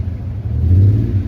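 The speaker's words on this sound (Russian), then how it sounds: "Как будто мотор работает ровно, но если я нажимаю газ, то сзади больше дыма" Close, steady low rumble of a car engine idling rough with slight revving swells, a vehicle stuck in the Argentine desert and smoking when throttled.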